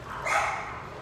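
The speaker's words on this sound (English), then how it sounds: "My dogs are going crazy." Excited indoor dogs give a brief high yip and bark that swells and fades within about a second, against a steady room background.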